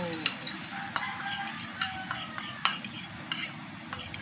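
Egg stir-fried with bitter gourd in a pan, a soft sizzle under repeated clinks and scrapes of a utensil against the pan in an irregular rhythm, close by.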